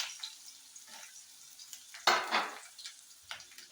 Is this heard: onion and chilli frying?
yes